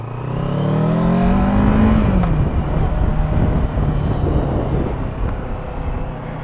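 A 2022 Kawasaki Versys 650 motorcycle pulls away, its engine note climbing steadily for about two seconds and then settling into a loud, even drone with rough wind rush over the microphone.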